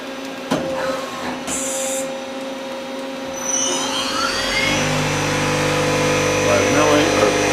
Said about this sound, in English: Lower turret, traverse.